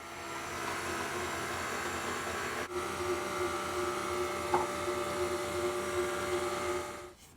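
Blender motor whirs steadily for about seven seconds, mixing flourless keto chocolate muffin batter, a loud continuous drone with a brief dip partway through before spinning down at the end.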